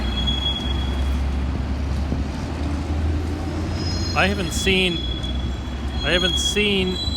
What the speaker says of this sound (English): This train is filled with coal, which normally they're filled with commuters